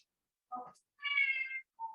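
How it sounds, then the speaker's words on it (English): A cat gives a few short, close meows, one longer and drawn out, separated by brief silences in an otherwise quiet room. "Oh, meow."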